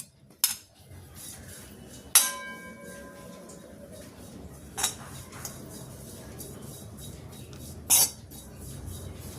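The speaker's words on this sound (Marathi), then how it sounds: "आता आपण याच्यामध्ये हे ओलं खोबरं थोडंसं भाजून घेणार आहोत." Grated fresh coconut roasted in a pan, with a few sharp metallic clanks and one ringing knock of a utensil on the pan over a faint steady background hiss.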